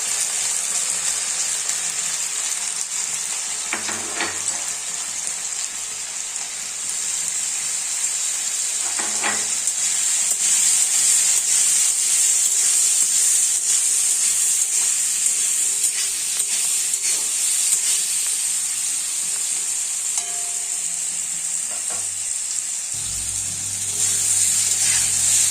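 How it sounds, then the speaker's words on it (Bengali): Potatoes with salt and turmeric frying in oil make a steady, close, loud sizzle and hiss throughout, with a few faint stirring knocks. "আলুটাকে একটু ভালো করে ভেজে নিতে হবে।"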